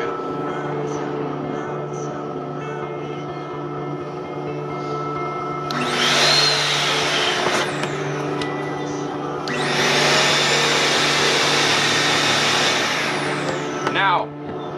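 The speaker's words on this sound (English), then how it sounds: "Let's do a little vacuum." A vacuum cleaner powered by a water-driven electricity generator hums as a steady drone, then roars loudly on in two long bursts with a high whine, switching off between them and briefly at the end.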